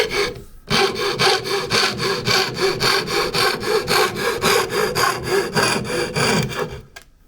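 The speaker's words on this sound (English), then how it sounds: "Cut to this line. Square cut across." A hand saw cuts square across a line in wood during farmhouse carpentry, with steady, rhythmic back-and-forth strokes, close and loud, running for several seconds before stopping.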